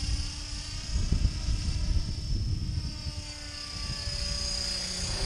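A class 500 RC helicopter in flight, a steady whining rotor and motor drone with a fluttering low rumble, moderately close and continuous, no talk.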